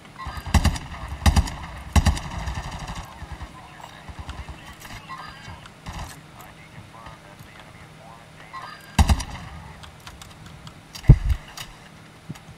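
Gunfire in the Call of Duty MW2 video game, scattered single shots and short bursts at irregular intervals, some sharp and close, over a quieter game background.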